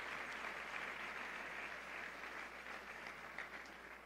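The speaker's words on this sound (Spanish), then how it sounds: "Dale un fuerte aplauso al Señor y Salvador Jesucristo." A church congregation applauds at a Catholic Mass, giving a steady, dense wash of clapping that holds at an even level throughout, heard alone with no talk over it.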